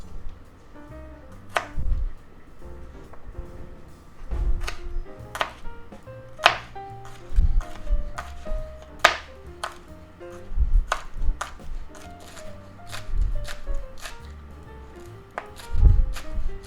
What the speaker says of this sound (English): Now we need to cut up some green onion